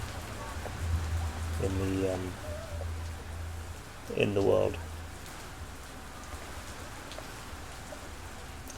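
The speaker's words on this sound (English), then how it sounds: "It's a bit weird that having a virtual world and it's still raining." Steady rain falls in the cyberpunk video game Lovecraft 2077, a continuous hiss running throughout beneath a voice that speaks in short bursts.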